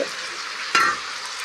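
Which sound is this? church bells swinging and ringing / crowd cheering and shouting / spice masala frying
spice masala frying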